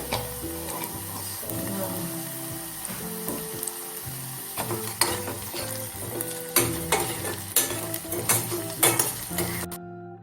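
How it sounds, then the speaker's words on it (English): Onions with a pinch of salt fry steadily in a pan for prawn rice, a continuous close sizzle with occasional stirring scrapes and light clinks of utensils against the pan. "I've lightly fried the piyaz curry."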